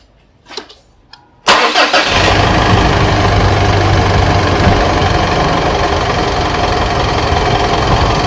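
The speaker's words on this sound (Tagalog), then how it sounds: "Start natin yung engine." A Mitsubishi Montero Sport engine, during a cooling system flush, cranks and catches after a quiet moment and a couple of clicks, then settles into a loud, steady idle that runs to the end.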